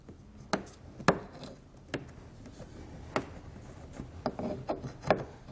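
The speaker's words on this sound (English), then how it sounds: "You can kind of pry underneath the base and get that whole fastener removed." A plastic trim fastener is pried out on a 2017 Lincoln with a trim tool or flathead screwdriver, giving sharp isolated clicks and snaps at irregular intervals over quiet scraping, close by with no voices.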